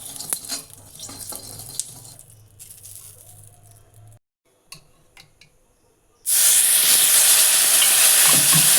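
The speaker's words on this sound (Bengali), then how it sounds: "কড়াইতে একটু সাদা তেল দিয়ে নিয়েছি তেলটা গরমও হয়ে গেছে ফোড়নে দিচ্ছি একটু পাঁচফোড়ন সর্ষে সামান্য দিয়েছি" Panch phoron, mustard seeds and turmeric fry in hot white oil in a wok, first with quiet pops and stirring, a brief hush, then a sudden loud, dense sizzle that roars steadily to the end.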